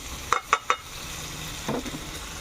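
Onion, tomato and ginger-garlic paste being sautéed in a pan with bay leaf and fennel seasoning, three quick stirring scrapes close up over a low sizzle, then softer stirring.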